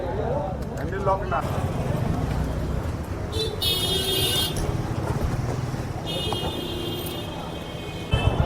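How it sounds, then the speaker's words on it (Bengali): Congested Kolkata street traffic heard from a Royal Enfield Hunter 350 motorcycle, a constant low rumble of engines with a few short horn toots and beeps, loud and close, with a person talking over it. "আর জ্যাম আছে কলকাতার ভিতরে"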